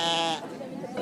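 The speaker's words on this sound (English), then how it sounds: "over this way, we have all of the sheep" A sheep at a livestock market in Otavalo, Ecuador gives one short, close, wavering bleat, followed by a mix of voices and background animal noise.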